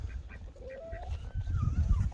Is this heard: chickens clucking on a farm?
yes